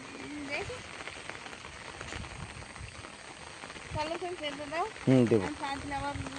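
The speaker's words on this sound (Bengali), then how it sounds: "বৃষ্টি হচ্ছে" Rain falls steadily outdoors by a canal during net fishing, a constant soft patter throughout, while voices talk over it, growing louder toward the end.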